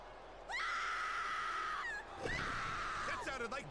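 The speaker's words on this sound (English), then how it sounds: "Why the fuck is she yelling like that?" A female wrestler in the Smackdown vs Raw 2007 video game lets out two long, loud, sustained yells, the second rising into a strained, wavering cry, with a low crowd or arena rumble beneath.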